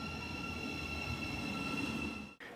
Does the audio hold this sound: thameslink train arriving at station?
yes